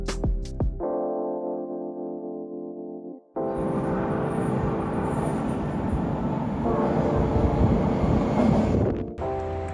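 A steady tone and hum, then a loud continuous rumbling roar of a moving train bound for Tokyo, Japan, with wind noise, close and sustained.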